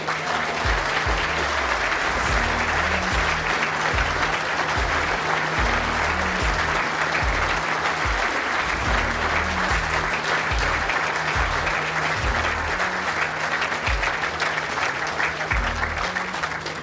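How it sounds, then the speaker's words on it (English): Sustained applause from the audience at an indoor bowls championship, dense and even clapping that carries on without a break, loud and close, with no voices standing out. "Please continue that applause"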